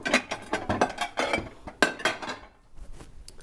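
Crab spaghetti served from a heavy pot into a big bowl, with repeated clinks and scrapes of metal utensils against cookware and dishes, fairly close, tapering off near the end.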